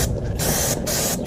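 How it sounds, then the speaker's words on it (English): Chain cleaner sprays onto a sportbike's chain in close, loud hissing bursts, three short pulses separated by quick pauses. "you're just going to spray this all over the"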